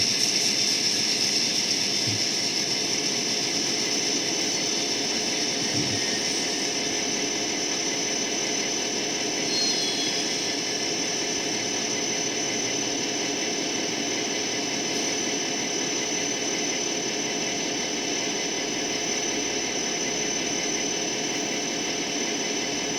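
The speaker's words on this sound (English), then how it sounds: "it was lucky for Stanley that the passenger engine waiting at the signal didn't notice him." A passenger train engine rumbles steadily, a continuous low mechanical drone with a hissing upper band, holding even loudness throughout with no voices.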